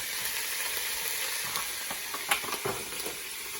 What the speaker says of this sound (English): And I stir that around